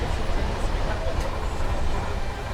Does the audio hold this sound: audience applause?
no